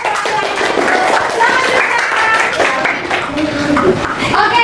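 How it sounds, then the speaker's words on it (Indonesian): A group claps hands together in a class session, a busy patter of overlapping claps under ongoing chatter and voices. "Beri tepuk tangan dulu."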